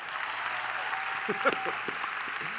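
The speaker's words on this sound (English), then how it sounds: "How about another round of applause for Ms. Marlsbury, please?" Applause from a high school graduation crowd forms a steady hiss of many hands, with brief murmuring voices mixed in partway through.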